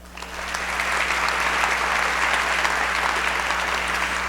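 A crowd at a school award ceremony claps for an honoree in a swell of steady applause that builds quickly and holds over a low hum in the room.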